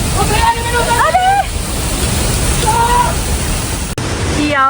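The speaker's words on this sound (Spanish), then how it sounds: "Y vamos a pasar por atrás de la cascada." A large waterfall in Ecuador roars up close as someone walks behind it, a loud, unbroken rush of water with voices calling out over it.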